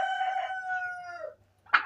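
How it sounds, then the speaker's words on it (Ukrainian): A young domestic turkey gives a long sustained wavering call, then a short sharp squawk after a brief pause, close and moderately loud, with a faint low hum underneath. "Це то ті самі меншенькі мої індики, бачите?"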